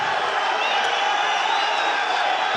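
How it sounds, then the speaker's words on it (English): Arena crowd at a fight between Petr Yan and Magomed Magomedov, a broad steady roar of cheering and shouting that holds loud and continuous from start to finish, with scattered whoops rising out of the din. "The crowd going crazy here for this amazing bout between these two men"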